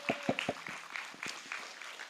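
A few sharp, separate handclaps from a church congregation at a Friday prayer meeting, quick and sparse, quiet and fading into a short stretch of talk.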